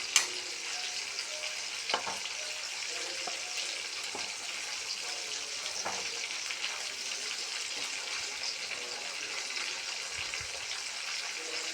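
Chicken frying in a pan, a steady moderate sizzle running the whole time with occasional soft knocks and scrapes of stirring, heard close with no voices.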